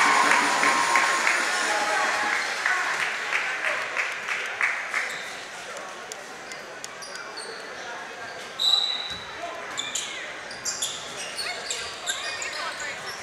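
High school basketball crowd at a Coal Bowl semi-final in a gym, with cheering and applause swelling early, then scattered claps, sneaker squeaks and ball bounces under ongoing commentary.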